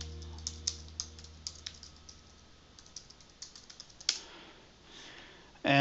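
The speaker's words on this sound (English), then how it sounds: "I'm going to type in Orange County SEO Expert" Fingers type on a computer keyboard to enter a search query, giving a quick run of light, uneven clicks in a quiet room that ends with a louder keystroke, with no talking.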